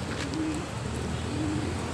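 A flock of racing pigeons in a loft area gives low, soft cooing calls over steady outdoor background noise, with a couple of faint tonal coos standing out.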